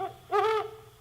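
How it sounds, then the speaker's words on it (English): A little screech owl gives a single clear, wavering hoot lasting about a third of a second, fairly close against a quiet background with a low hum. "a little screech owl came and perched on the window ledge of my cell"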